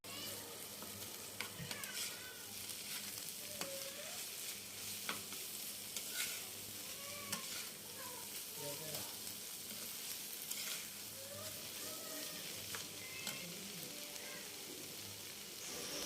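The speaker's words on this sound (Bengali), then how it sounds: "ডিমের সাথে ভাজিটাকে আমি একটু ভাজা ভাজা করে নিব।" Green tomato fry with egg cooks in a pan, giving a faint, even sizzle broken by intermittent stirring scrapes and small pops over a long stretch, with no talking.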